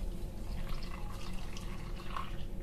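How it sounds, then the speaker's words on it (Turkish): Hot water poured over fine bulgur and semolina in a bowl, a soft close splashing pour with light trickling, no talking. "Üzerine 3 su bardağı sıcak su."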